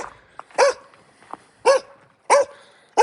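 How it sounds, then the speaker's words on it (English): A dog in a snowy northern British Columbia setting barks three times at a steady pace, each short sharp woof loud and close, with faint small sounds between barks. "No, you don't have to bark."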